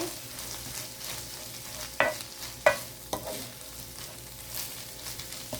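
Steady sizzling of a spoonful of garlic frying in a hot pan with scallions and chili peppers, with a few sharp scrapes and taps of a spatula stirring it, close and moderately quiet.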